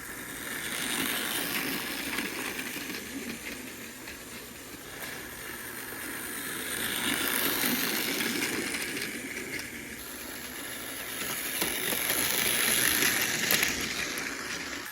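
A motorized toy Thomas engine named Salty runs along its track with a steady whirring hum and faint rattling clicks, close and continuous with no voices.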